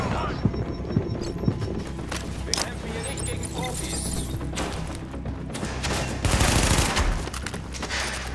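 Gunfire in The Division, a shooter set in Manhattan, rings out as scattered bursts of shots at close range mixed with game clatter, ending in a denser rattling volley.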